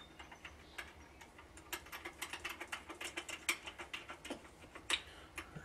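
Bolts being tightened while installing a Minn Kota Talon shallow-water anchor, a rapid string of faint ratcheting clicks that grows denser and steadier partway through, with no talk.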